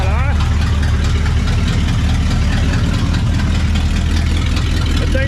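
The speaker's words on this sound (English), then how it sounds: "The thing's got no exhaust on it and just a ton of blow-by right now." A 1959 or 1960 Pontiac Bonneville convertible barn find runs with no exhaust and heavy blow-by, giving a loud, steady, rough idle with a low throbbing pulse throughout and a brief voice at the edges.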